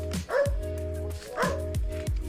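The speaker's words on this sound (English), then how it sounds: "We have doggies here greeting us." Rescued dogs from a farm pack of eighteen bark in greeting, several close yips and barks repeating in rough bursts about a second apart over a constant hum.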